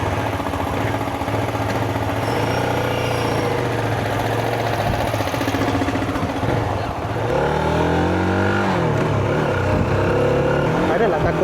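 A motorcycle engine starts and runs at a steady idle for several seconds, then the note shifts as the throttle is blipped near the end; close and continuous, with no clear voices over it.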